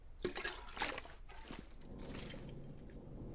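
Water being collected in The Long Dark, heard as a short splashy trickle and pour that settles into a steady soft running-water wash, close and moderately loud, with no talking.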